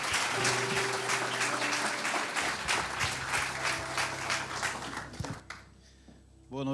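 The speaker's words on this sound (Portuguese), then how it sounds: "Pode aplaudir a Jesus" A church congregation at an evening service applauds, rhythmic loud clapping over a held keyboard chord, ending abruptly into near quiet before a voice returns.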